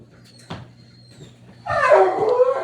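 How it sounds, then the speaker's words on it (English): A dog in the background lets out a burst of barking and yipping that grows louder midway through, following a faint knock and quiet room sounds. "Sorry, that's the dog in the background."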